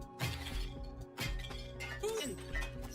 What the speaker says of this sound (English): Or take the hammer, which, yeah, you guessed it, is great for smashing stuff.